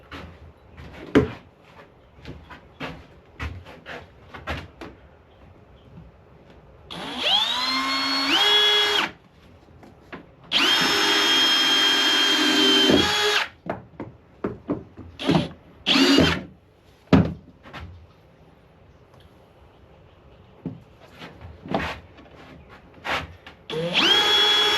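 A cordless power drill drives screws into glued wood for a computer stand base, with two long whirring runs and a few shorter bursts, close and loud amid scattered clicks and handling knocks.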